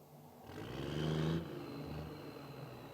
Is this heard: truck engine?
yes